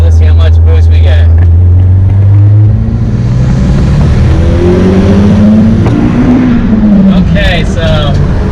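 A turbocharged car with an upgraded internal wastegate pulls hard in second gear from about 3,000 RPM. The engine sound is loud and close and climbs steadily in pitch, and someone talks over it.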